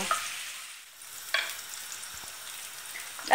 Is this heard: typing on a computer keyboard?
no